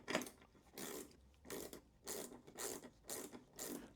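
A STARTRUAL ratchet wrench with an 11 mm head clicks through its reverse direction in seven quick ratcheting bursts at a steady rhythm, close up with no talking.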